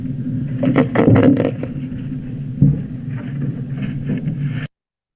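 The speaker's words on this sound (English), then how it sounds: "grunts or G-type signals are harsh and low-pitched grunts, rather unstructured with a guttural sound" Harsh, low-pitched guttural grunts of the G-type signal, given in stressful confrontations at short range, come as a rough, unstructured burst of loud grunting early on, then fainter scattered grunts until an abrupt stop.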